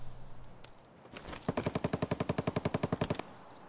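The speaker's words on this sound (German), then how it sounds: "Schüsse." Machine gun fire in Escape From Tarkov: after a few scattered sounds, a rapid burst of about twenty evenly spaced, loud shots rings out before stopping abruptly.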